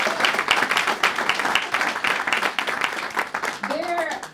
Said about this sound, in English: Just give them a round of applause once again.